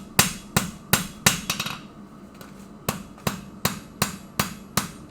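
A blacksmith's hammer strikes hot metal on an anvil while forging a taper, ringing out in about a dozen sharp, evenly spaced blows, with a brief cluster of quicker light taps midway.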